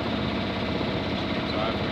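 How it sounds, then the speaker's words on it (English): The engine of a sailing boat runs steadily on the way home, a continuous low throbbing rumble at close range with no break. "We've got the engine still running."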